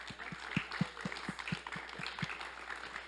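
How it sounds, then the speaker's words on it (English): A small audience at a Seattle literary reading gives a round of applause for the readers, a light, fairly faint patter of clapping with a few distinct nearby claps, steady for a few seconds. "How about a round of applause for Byron,"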